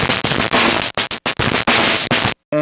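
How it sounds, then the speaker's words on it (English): Harsh, buzzy distorted guitar tone through an STG Soundlabs .COM frequency divider set to octave down, with a deep, thick low end, chopped into stuttering bursts, then a brief silence and a cleaner harmonic note at the end. "Octave down sounds like this."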